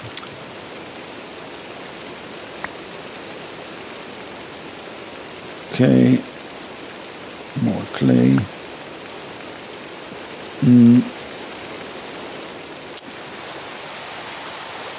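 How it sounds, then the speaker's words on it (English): Steady rain falls throughout a Minecraft world as a continuous hiss, with a few short spoken phrases on top and a brief click near the end. "oh no, it started to raining."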